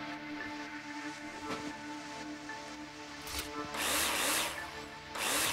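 Power drill in the Bauarbeiter Simulator construction game, used while dismantling: a steady whirring tool hum with a few short bursts of harsher grinding noise toward the end, no talk.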